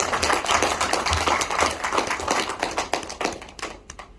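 An audience at a presentation claps hands in a lively, uneven patter of applause that thins out toward the end, close and fairly loud.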